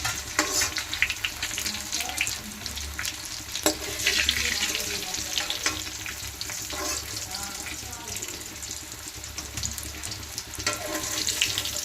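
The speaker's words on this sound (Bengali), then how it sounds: "তারপর মশলা ভাজবো।" Spices fry in a pan, giving a steady, fairly faint sizzle with occasional clinks and stirring noises throughout, recorded close in a home kitchen.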